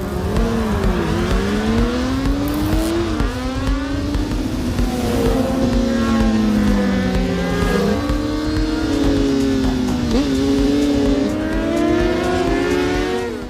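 A Honda CBR 600RR motorcycle races loudly, its engine rising and falling through repeated revving gear changes with sustained high-pitched whine, alone with no talking.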